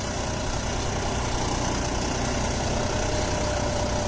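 A John Deere 5405 CRDI PowerTech tractor engine runs steadily with a cultivator attached, giving a loud, continuous, even mechanical drone with no breaks or changes in pitch throughout.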